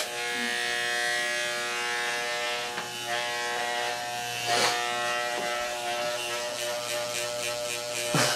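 Electric hair clippers buzz steadily and close up while cutting hair into a mohawk, with a constant humming drone and small shifts in tone as the blades move through the hair.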